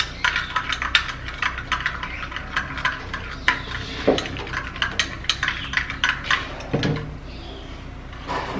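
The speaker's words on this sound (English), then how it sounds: "And then we'll give it a little stir, just like this." Homemade skin care mixture stirred in a small container, a rapid series of close clinks and scrapes from the utensil against the sides, steady and busy, with no talking.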